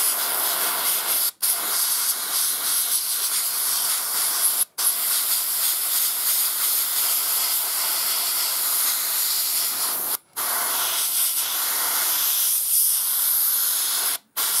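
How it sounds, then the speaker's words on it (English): An airbrush sprays chipping medium onto a model crane, giving a steady, close hiss in long bursts broken by a few brief pauses. "an airbrush really is saving a lot of time"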